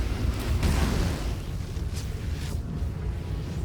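Lightning strikes explosives in Baldur's Gate 3, setting off a deep, rumbling explosion that swells at the start, then fades into a low roiling boom with a few crackling bursts.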